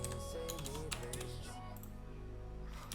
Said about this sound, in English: Sergio Matei's mechanical keyboard sessions.